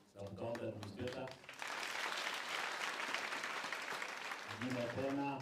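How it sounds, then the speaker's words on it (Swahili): Applause for a sub-county administrator at a community event bursts out after someone speaking on a microphone and runs steadily for several seconds before he resumes. "Makofi kwa sub-county administrator."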